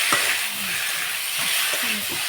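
Boiled green jackfruit sizzling in a pan with spices, a steady soft frying hiss with a few scrapes of stirring, close and fairly quiet, no talk.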